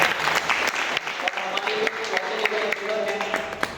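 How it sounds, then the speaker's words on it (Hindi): Audience applause at a large planning meeting, a loud steady wash of clapping from many hands, with faint voices speaking over it. "एक बार मैं इनके लिए तालियां चाहूंगा।"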